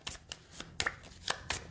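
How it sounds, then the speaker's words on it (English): Spell cards from the Pathfinder Adventure Card Game being riffled into a deck, a quick run of about seven crisp papery snaps in close succession, near and clear with no talk. "Shuffle that into my deck."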